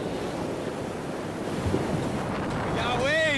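Surf about four feet high rolls and breaks on a Louisiana beach, a steady wash of broken water under wind buffeting the microphone, with a brief whistling tone rising near the end.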